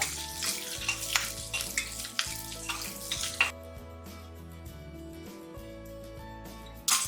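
Onions and green chilies sautéing in a pan for Tamil-style mutton curry, with a steady sizzle and scraping stir strokes. The sizzle is louder for the first half, then settles into a quieter frying hiss.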